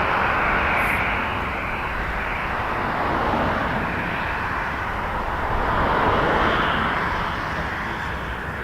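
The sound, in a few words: Sunwing Boeing 737-800 airliner taking off at Toronto Pearson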